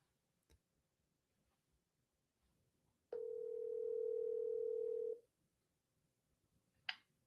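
A steady telephone dial tone sounds for about two seconds in a quiet room, with a faint click before it and a brief chirp afterward.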